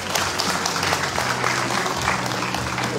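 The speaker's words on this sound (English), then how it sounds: "Let's give him a big round of applause, Senator-elect Ruben Padilla." Audience applause greeting a senator-elect at a public event in the Philippines, a dense, steady wash of clapping filling the whole stretch at moderate loudness.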